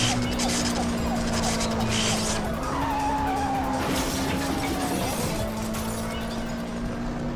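Tires skid and squeal loudly during a police car chase in a Lego crime audio drama, a sustained screech with engine roar running steadily throughout.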